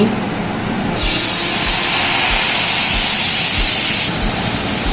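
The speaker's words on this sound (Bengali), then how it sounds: "এবার মশলাটা কড়াইয়ের মধ্যে দিয়ে দিচ্ছি।" Spice paste mixed with water hits a hot wok with cooking oil for raw hilsa curry, a loud, steady, close hiss of sizzling that swells after a second and eases near the end.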